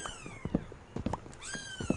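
Cat meowing in the video game Minecraft, several short, close meows spaced irregularly over a quiet background.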